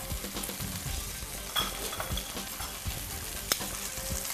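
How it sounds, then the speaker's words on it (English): Meat searing with rosemary in a hot pan, a continuous sizzle broken by scrapes and sharp metal clicks from tongs, close by, without speech. "So you want to get a nice good sear in there."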